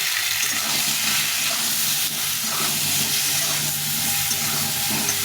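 Raw mango pickle pieces with salt and turmeric frying in oil, a continuous loud close sizzle and crackle with stirring, no talking.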